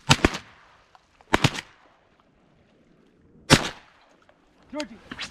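Three sharp, loud 28 gauge shotgun blasts ring out over water from a kayak during a duck hunt. The shots are spaced a second or two apart, with voices following near the end.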